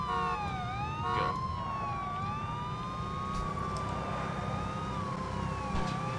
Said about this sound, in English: Hey, I found another police car.